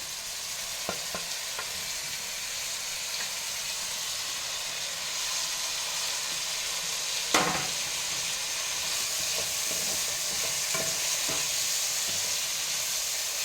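Tomatoes and mint sauté over medium-high heat in a pan with ginger for cashew rice, a constant hiss of frying with scattered stirring taps and one louder clack midway.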